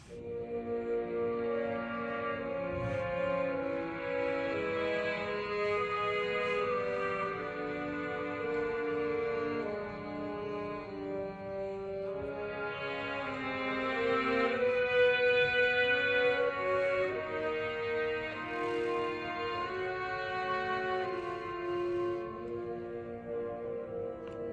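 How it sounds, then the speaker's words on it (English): Main theme of Reed's Second Symphony played by clarinets and bassoons, a soft sustained woodwind melody with layered harmonies flowing continuously, swelling slightly midway, with no talking. "the main theme introduced by the clarinets and bassoons"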